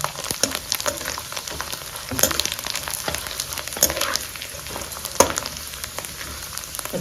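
Sabudana (sago) and potato fritters bubble in hot oil on a gas stove, giving a steady, close crackling sizzle with sharper pops scattered through it.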